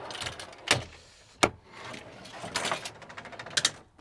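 A slide-out camp kitchen drawer opening on a Landcruiser overland build, heard as a few sharp metallic clunks and latch clicks with some sliding rattle in between, fairly close and moderately loud.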